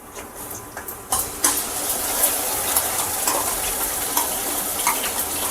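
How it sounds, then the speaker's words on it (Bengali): Spice paste with turmeric and chili powder sautéing in a pan, a dense close sizzle broken by scattered sharp scrapes and clinks of a spatula against the metal. "এবার এটাকে ভালো করে কষাবো"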